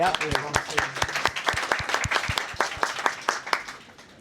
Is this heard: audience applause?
yes